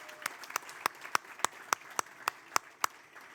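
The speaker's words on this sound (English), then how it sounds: "So, round of applause for the team." Sparse, slow clapping at an alumni awards event, roughly ten sharp, separate claps in an even rhythm, fairly close and distinct over a quiet room.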